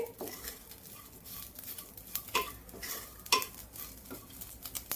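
Dried bombil fish, already fried brown, scraped and stirred around a pan, soft scraping strokes with a few sharper clinks of the spatula against the metal over a faint sizzle.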